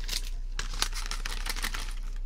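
Crisp, close crinkling of an almond chocolate wrapper during a binaural ASMR session, with continuous rustling and sharper crackles, all without talk.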